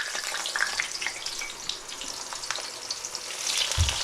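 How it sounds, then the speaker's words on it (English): Fresh eggplant slices fry in hot oil for an eggplant parmigiana, giving a steady close broadband sizzle with crackles throughout and a soft knock near the end. "I'm going to take now these fresh eggplant slices into the oil."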